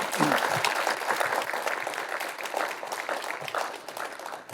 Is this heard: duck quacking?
no